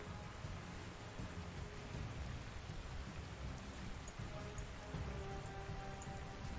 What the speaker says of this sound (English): It's still raining, so I can't actually...